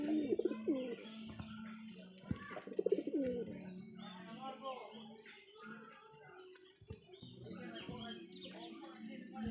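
Pigeons that have just eaten puffed rice coo close by in repeated throaty, warbling phrases, with softer chirps and rustling between the calls.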